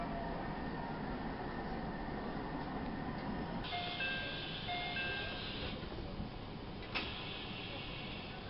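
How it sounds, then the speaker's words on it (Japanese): A JR 213 series 5000 train passing on the Iida Line in Aichi, a steady rumbling roar that swells around the middle as the cars go by, with brief tonal squeals and a sharp clank near the end. "213系5000番台、普通列車中部天竜行き、505M 列車とすれ違い。"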